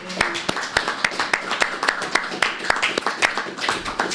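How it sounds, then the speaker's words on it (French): Clapping at a regional county council session in Haute-Gaspésie, a sparse handful of hands striking in an uneven, fairly steady rhythm over low background murmur. "je pense que ça mérite une main d'applaudissement"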